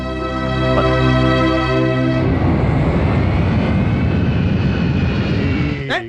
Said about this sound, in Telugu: విమానం వచ్చే టైం అయిపోయింది.